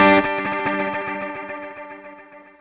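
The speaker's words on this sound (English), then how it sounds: "The Runaway BBD is just an analog delay that sounds like it's about to go crazy nuts into oscillation, but it doesn't." A guitar chord through a Meris LVX pedal on the Runaway BBD analog delay preset rings out, its repeats fluttering and smearing as they slowly fade over a couple of seconds, alone.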